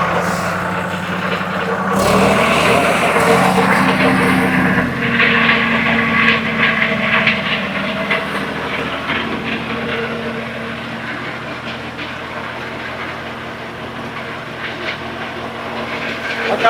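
An Indofarm 3050 tractor engine is revved up toward 1500 rpm outdoors, a loud, steady mechanical roar that swells and holds, with a harsh rise near the start before settling into a sustained drone.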